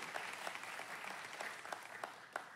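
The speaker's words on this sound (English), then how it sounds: "Yeah, you can clap that." A church congregation claps together in a quiet, fairly distant burst of applause, with scattered sharper claps standing out.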